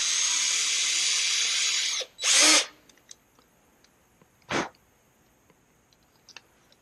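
A power drill whines steadily for two seconds while drilling through a hole in a mouse scroll wheel without a drill press, then a short louder burst, scattered clicks and another brief drill spurt.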